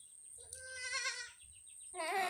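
Seven-day-old goat kids bleating up close: a long, wavering high cry, a short pause, then a second strained bleat.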